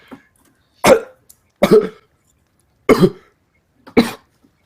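A voice imitates coughing: four short, rough coughs spaced about a second apart, close to the microphone, with silence between them.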